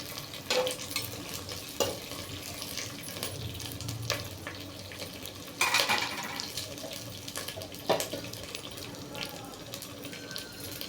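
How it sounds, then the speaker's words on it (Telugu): Grated coconut frying in a pan while being stirred, steady faint sizzling with scraping stir strokes and a few louder clanks of the utensil against the pan. "కొబ్బరి పచ్చివాసన పోయినంత వరకు మంచిగా వేగనివ్వాలి."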